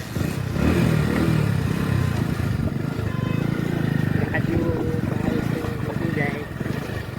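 A motorcycle rumbles along a dirt road on a family trip, its engine a low, steady drone close by, with people talking over it throughout.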